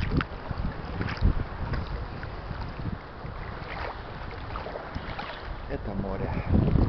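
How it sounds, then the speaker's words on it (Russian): Sea waves wash in steadily under gusting wind buffeting the microphone, a continuous broadband rush with voices talking faintly over it. "Это море."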